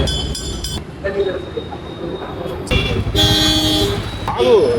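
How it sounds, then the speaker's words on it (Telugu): Street traffic with several car horns honking in short bursts, fairly loud and close, with engine noise and people talking. "ట్రాఫిక్ వస్తుంది కదా, ఇప్పుడే తిరిగేస్తాం. హార్న్ కొడుతున్నాం."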